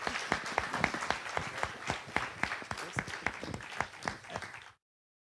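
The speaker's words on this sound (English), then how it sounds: "Can I ask you for a round of applause?" A modest round of applause in a lecture hall at a physics and machine-learning summer school in Kraków, with distinct individual claps fairly close, ending abruptly.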